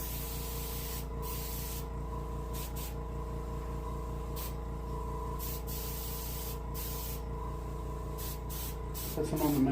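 An airbrush sprays silver pearl paint onto a brook trout taxidermy mount in a close, continuous hiss broken by several brief pauses, with a faint mechanical hum underneath.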